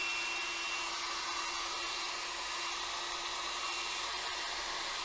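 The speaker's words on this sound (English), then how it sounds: "we hit them with the blow dryer" A blow dryer runs continuously with a steady, loud whooshing airflow and a constant high whine, unchanging throughout, drying sterilized silver jewelry pieces.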